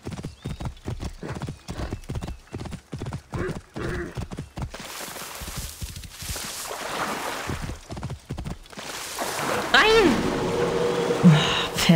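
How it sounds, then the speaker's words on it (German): Hooves clip-clop in a quick, even rhythm in Assassin's Creed Origins, followed by a horse's whinny and other game sounds, with a voice talking intermittently. "Pferd, Alter."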